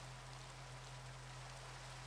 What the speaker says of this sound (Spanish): ¡Qué lluvia